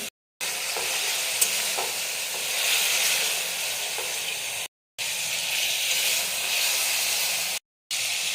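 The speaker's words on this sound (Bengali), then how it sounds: "দেখুন মশলাটা এইভাবে কষছে।" Spice paste for a potato, pointed gourd and rohu fish curry fries in a pan, giving a dense, close, steady sizzle with light stirring and a few short breaks.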